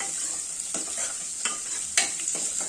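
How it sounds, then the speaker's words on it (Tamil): Garlic frying in hot oil in a pan, a steady close sizzle with a few scraping stirs of a spoon through it. "அந்த பூண்டு வந்து நல்லா மீடியம் கோல்டன் ப்ரௌன் ஆகிற வரைக்கும் நல்லா ஃப்ரை பண்ணிக்கலாம் ஆயில்லையே"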